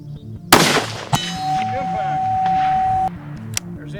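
A Ruger 6.5 Creedmoor rifle fires one sharp, loud shot; about half a second later a distant steel target at 500 yards rings with a clear, sustained metallic tone that fades, followed by a fainter click.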